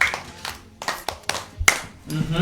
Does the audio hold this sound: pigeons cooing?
no